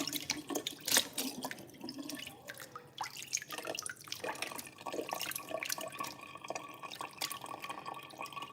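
Ice-cold water runs from a kitchen tap in a steady splashing stream with dripping and shifting spatter as hands or food move under it, moderately quiet and close, no speech.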